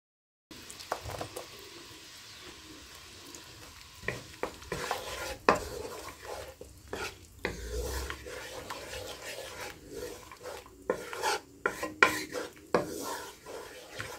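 Sauce for bistek sizzles softly in a frying pan while a utensil stirs and scrapes against the metal, giving irregular clinks and scrapes over a faint, steady sizzle in a home kitchen.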